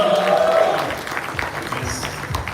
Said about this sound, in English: Round of applause for Culture Co.